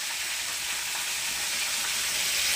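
A fish head fries in hot oil, giving a dense, continuous close sizzle that holds steady and swells slightly toward the end, with no voices over it.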